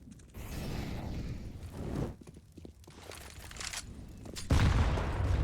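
Grenades going off in CS:GO on the Inferno map, a burst of dense crunching blasts and debris with another heavy detonation near the end, loud and close.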